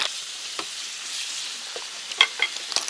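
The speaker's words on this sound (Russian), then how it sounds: "І такі сантиметрові толщини треба жарить Вони быстро жаряться." Beef steaks about one centimetre thick sizzle steadily in a hot pan, a constant hiss broken by occasional small pops and crackles.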